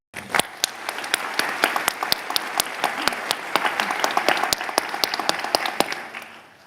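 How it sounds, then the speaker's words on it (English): A small crowd at a pharmacy college white coat ceremony applauds, the clapping swelling briefly and then tapering off after several seconds. "Let's take a moment to show our appreciation with a round of applause."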